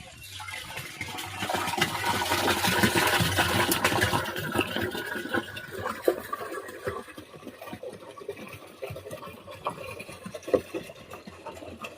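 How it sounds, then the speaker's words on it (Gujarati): Cow urine, about 20 litres, pours steadily into a container for several seconds, a broad splashing rush that gradually thins out into softer trickles and drips. "સૌપ્રથમ આપણે 20 લીટર ગૌમૂત્ર લેવા, તો આપણે પહેલું નાખી દઈએ."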